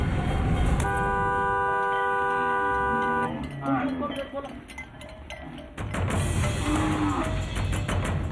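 A loud vehicle horn blares in one long sustained tone, then gives way to shorter honks amid road noise near a herd of cows on the way to a Mahakali temple in Chhattisgarh.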